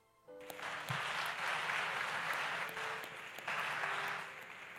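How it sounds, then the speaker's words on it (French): A church congregation applauding during a French-language worship service, a steady wash of clapping rising in waves after a quiet start, fairly distant and even throughout. "Acclame Jésus"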